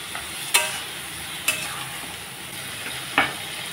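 Grated ginger and three chopped green chillies being sautéed in a pan for a Bengali tangra fish curry, with a steady soft sizzle and three sharp spoon scrapes against the pan, alone with no talk.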